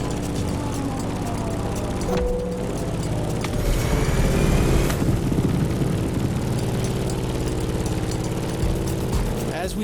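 A Grumman F8F Bearcat propeller plane flies in the racing game The Crew Motorfest, its piston engine droning loudly and continuously, rising and shifting in pitch as it passes.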